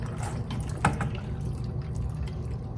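Blanching water being poured off fresh peas into a colander in a kitchen, a steady splashing trickle with a few sharper drips, close and moderately loud.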